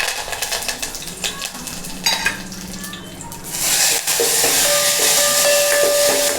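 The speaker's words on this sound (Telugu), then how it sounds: "ఎండుమిర్చి, కరివేపాకు వేస్తున్నాను." Dried red chillies, garlic and curry leaves hit hot oil for a tomato-pepper rasam tempering, giving a soft crackle that bursts into a loud, steady, hissing sizzle halfway through, close and with no talk.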